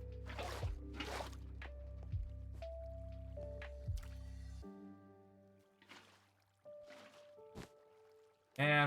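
Water placed in bulk from buckets in Minecraft with the Create mod: three quick squishy splashes early on, then a few fainter watery plops and a sudden louder burst at the end, over a quiet steady hum.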